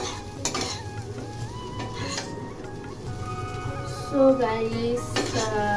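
A cooking pot of greens comes off the stove with scattered metallic clinks and scrapes of cookware and utensils, fairly close, with a louder clatter near the end.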